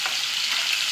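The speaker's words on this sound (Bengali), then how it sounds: "মাছটাকে একটু লাল লাল করে ভেজে নেবে।" Dried fish (shutki), already boiled and seasoned with turmeric and salt, fries in a pan with a steady, close hiss and sizzle throughout, no voices.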